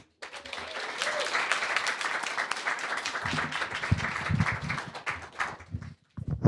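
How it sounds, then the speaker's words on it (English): An audience at a live radio-station music showcase applauds after a singer's performance, a dense steady wash of clapping that runs loud throughout, with some talking and low thumps near the end. "Give her another big round of applause."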